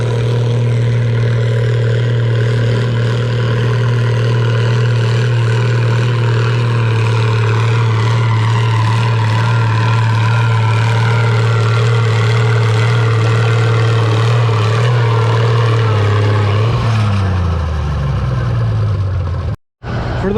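An Allis-Chalmers D21 pulling tractor engine runs steadily at a loud, close idle with a deep, constant low drone, then the pitch sags near the end before a brief cut.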